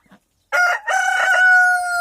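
A rooster crows once nearby, a loud drawn-out call that holds its pitch before trailing off.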